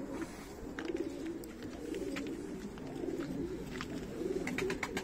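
Pigeons coo softly in repeated rolling phrases, with faint rustling and scattered clicks in a quiet setting; the birds sound moderately near, and no one speaks.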